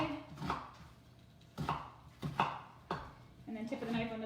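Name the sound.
knife slicing red onion on a board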